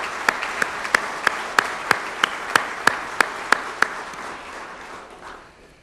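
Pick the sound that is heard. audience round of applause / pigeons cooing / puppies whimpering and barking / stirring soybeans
audience round of applause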